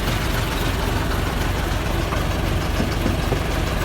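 Big replacement engine in an Isuzu Super Rocky truck idling steadily up close, a loud, dense low rumble with a fine knocking pulse running unbroken throughout.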